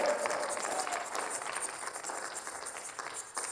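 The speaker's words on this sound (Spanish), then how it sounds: "Dele un aplauso al Señor si se lo está dando." Church congregation applauding during a worship service, a fairly faint, even wash of many hands clapping for a few seconds, heard from a distance without clear individual claps.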